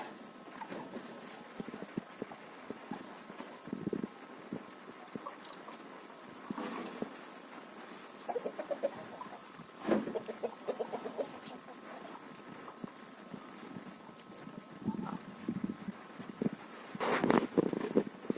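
Guinea fowl and bantam chickens in a village yard cluck and call in scattered, overlapping bursts, fairly close, with soft rustling and clattering of yard chores in between.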